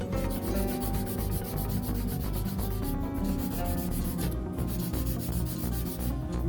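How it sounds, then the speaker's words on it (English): A 180 or 240 grit file rubbing gently along the sides of a gel nail, a close, continuous scratchy rasp of quick repeated strokes with no talking. "take like a 180 or a 240 grit file and just really gently hit those sides"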